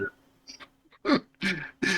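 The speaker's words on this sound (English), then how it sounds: "I'm going to start coughing here." Several short, harsh coughs come in quick succession close by, with a low hum underneath between them.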